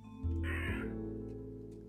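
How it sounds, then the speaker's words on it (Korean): A crow caws once, loud and harsh, over a steady droning musical background in the puzzle game Rusty Lake: Roots. "까마귀"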